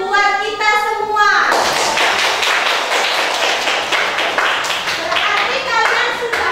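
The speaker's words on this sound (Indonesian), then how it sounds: "Tepuk tangan buat kita semua." A class of young schoolchildren claps together in a classroom, a dense burst of hand claps that starts after a brief spoken lead-in and continues steadily to the end, with a voice heard at the start.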